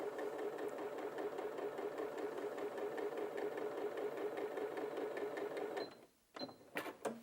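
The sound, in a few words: Janome 8200QCP sewing machine sewing a quarter-inch seam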